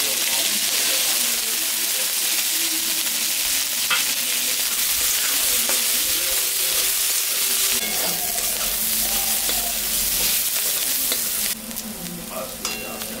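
Slit green chillies and onion frying in hot oil in a pan, a steady loud sizzle with occasional stirring scrapes throughout, the hiss dropping slightly near the end.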